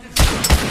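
Two heavy gunshots boom close together in The Order: 1886, each a loud broadband blast with a trailing echo.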